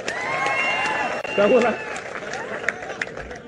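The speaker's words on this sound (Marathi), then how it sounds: "नितेश राणेंचं टाळ्या वाजवून जरा अभिनंदन करा" A political rally crowd claps and cheers in a broad, continuous wash of applause for Nitesh Rane, with a faint speaking voice underneath.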